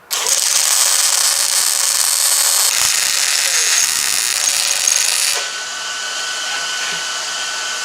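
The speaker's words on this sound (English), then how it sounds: "I'm just going to tack weld it." Tack welding on a VW Baja Bug gives a loud, steady hiss with crackle, held for several seconds before it drops to a quieter, sustained tone.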